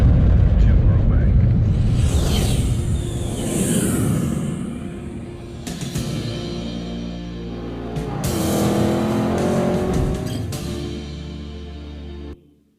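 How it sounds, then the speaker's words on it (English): Sports cars roar and whoosh past in an immersive headphone demo, loud engine sweeps rising and falling in two main passes before cutting off abruptly at the end. "you will hear and feel sports cars flying past you"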